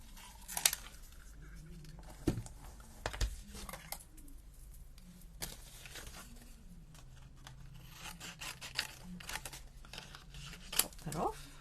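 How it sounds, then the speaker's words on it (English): Cardstock for handmade cards being cut and trimmed, with soft scissor snips, rubbing and paper handling scattered across the stretch, quiet and close. "I'm just thinking that might be good to cut out this one."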